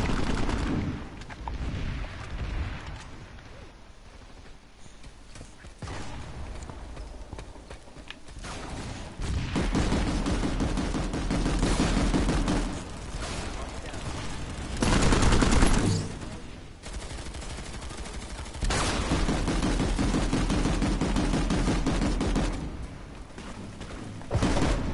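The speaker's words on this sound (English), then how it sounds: "Come on, stop shooting!" Sustained bursts of gunfire from the video game SidePlanet, loud and dense, with rolling rumbles and brief lulls between heavy volleys across the whole stretch.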